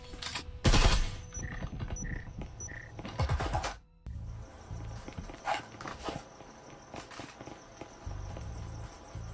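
Rapid bursts of gunfire from a tactical shooter match, sharp close shots in quick clusters followed by scattered quieter shots and movement noise, with no talk.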